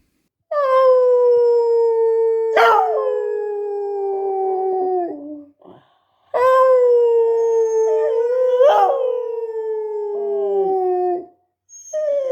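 A dog howls along to an old blues song, with long, loud, sustained wails that slide downward and break off, repeating in two drawn-out phrases with brief pauses.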